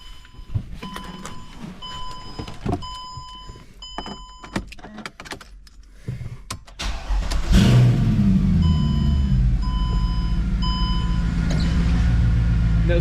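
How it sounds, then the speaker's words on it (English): A 2007 Mercedes-Benz CLK63 AMG Cabriolet, unstarted for a few days, cranks and fires on a cold start, then settles into a loud, steady, rumbling idle; a few soft warning chimes and clicks come before it. "going to do a cold start video on this CLK"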